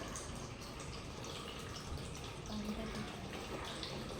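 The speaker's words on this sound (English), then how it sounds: "So this is how you will see the water continuously flowing out from the." Water runs steadily out of a siphon tube, driven by gravity and air pressure, as a continuous, even splashing flow that holds constant throughout, with a voice present in the background.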